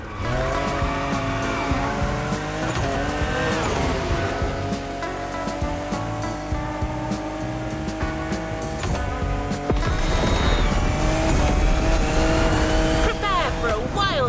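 Race cars speed through the night streets of Honolulu in The Crew Motorfest, with a continuous engine roar shifting pitch, tire squeal and a louder surge near the end, while a voice talks over the racing.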